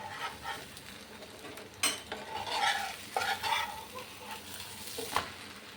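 Moonglet, a moong dal omelette, roasting in ghee on a pan, a faint continuous sizzle with scattered spatula scrapes and taps as it is turned, quiet and close, with no speech.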